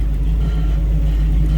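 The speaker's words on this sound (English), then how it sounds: "slip around to the side of this so you can hear it run." 1954 Chevrolet 210 two-door sedan street rod idling with side exit exhaust, a loud, steady low rumble heard up close with no speech over it.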